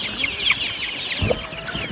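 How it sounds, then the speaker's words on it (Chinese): Chickens at feeding time on a small farm that also keeps pigs, giving close, soft clucks and short calls over a steady outdoor background. "现在去上面喂鸡啊。"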